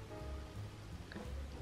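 Steady rain patters on a drizzly, dark, cloudy day, a dense, even wash of soft droplets with no talking.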